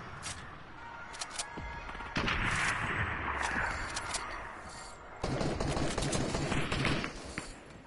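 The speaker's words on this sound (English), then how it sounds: "Where's that shooting coming from?" Gunfire in the video game Fortnite: bursts of rapid shots and rattling volleys come in dense clusters, with a heavier stretch after a couple of seconds and another from about five seconds on, fairly loud and continuous.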